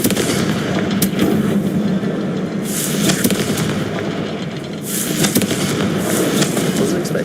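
The Confringo fire spell blasts in the Hogwarts Legacy game, a loud dense crackle of explosive bursts with sharp cracks that swell and fade in waves over the clip, close and unbroken.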